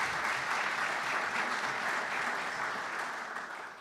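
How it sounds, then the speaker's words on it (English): Steady crowd applause at a county State of the County address, many hands clapping at a moderate distance, sustained for a few seconds and fading slightly at the end. "You can clap to that."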